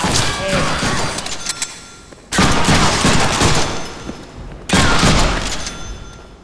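Dense automatic gunfire from the Deadpool video game, with a loud sustained burst that cuts off and two more bursts starting abruptly after it, each mixing rapid shots with thuds and crashes.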